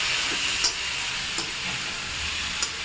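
Onion, garlic, green chili and tomato sauté in a pan for bitter gourd chutney, giving a steady broadband sizzle throughout with a few light utensil taps scattered across it, close and unvoiced.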